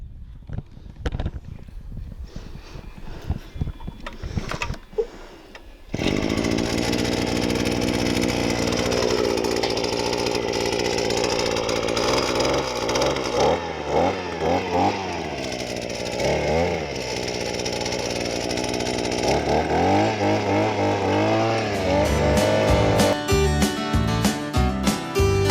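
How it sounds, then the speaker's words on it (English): A small garden tiller churns through soil in a cold-climate vegetable plot. Its engine roars up loudly after a few seconds of scattered clatter, then runs steadily and close, its pitch rising and dipping as it bucks through the ground. "we come back and we do till it in with our little tiller"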